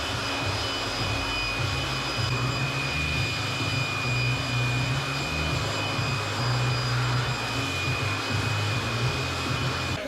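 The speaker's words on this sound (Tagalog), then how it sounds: "dalawa sila gumagamit ng air blower para mabilis mapatuyo ang motor" Two air blowers roar steadily to dry a freshly washed Kawasaki ZX-4RR motorcycle before coating and buffing, a loud, continuous whooshing rush with a faint whine that holds without break.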